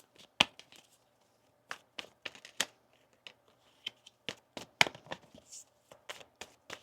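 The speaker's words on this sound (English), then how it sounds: "One more shuffle." A deck of tarot cards being shuffled by hand, with scattered crisp snaps and riffling clicks in uneven bursts, close and fairly quiet with no voices.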